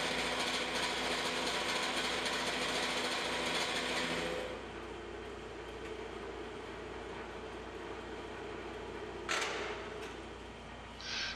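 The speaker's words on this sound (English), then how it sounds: "I've returned to the carbide shell mill, and I'm just going to take a light surface cut" Carbide shell mill on a milling machine taking a light surface cut on a block, a loud dense whirring hiss that drops to a steadier softer grind partway through, with a brief sharp burst near the end.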